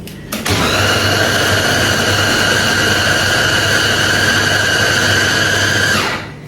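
A meat grinder or blender mincing meat for kofta, a loud steady motorized whir with a high whine that starts abruptly, runs continuously for about six seconds, then stops.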